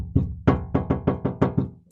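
Seven firm knuckle taps on the door panel of an E46 BMW 3-series, a short dull knocking run of evenly spaced hollow thuds, close and clear with no talk.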